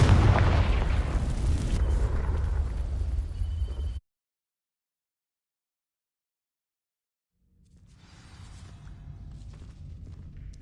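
A Confringo fire spell explodes in Hogwarts Legacy: a loud, dense blast roaring for about four seconds and cutting to sudden silence, then a low, quieter rumble fading back in.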